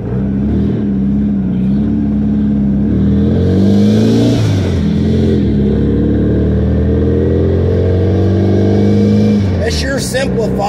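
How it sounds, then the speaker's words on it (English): A Volkswagen Beetle engine runs on an electric fuel pump, a close, loud, steady idle with rising and falling revs partway through, and a voice speaks over it. "we're going to see how this thing runs now with the electric fuel pump."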